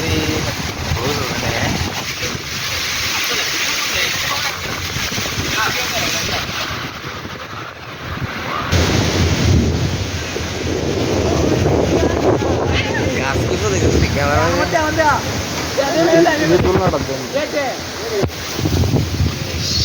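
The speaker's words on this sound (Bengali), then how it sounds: "প্রচন্ড বাতাস" A fierce Kalbaishakhi storm wind roars continuously and loudly across the microphone, swelling in gusts while someone talks over it.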